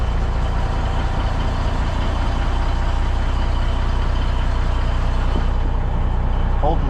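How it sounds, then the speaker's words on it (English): A 1981 Peterbilt truck's diesel engine idles steadily on a cold winter day, a loud, even low rumble with a constant throb and no pauses. "Listening to this 81 Peterbilt just sit here and purr"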